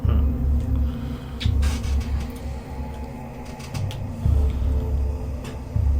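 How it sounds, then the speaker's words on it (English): A heavy door grinding open in a tabletop game effect: a low, rumbling mechanical creak with scraping, juddering pulses swelling and fading over several seconds, fairly loud and alone. "You push the door open and it grinds and makes a lot of noise"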